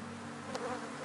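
Honeybees buzzing around a beehive, a steady dense hum that fills the whole moment, close and even in level, with no voices.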